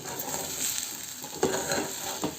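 Eggs fry in a shallow layer of oil in a pan with a steady close crackle and sizzle, punctuated by a couple of brief scraping knocks.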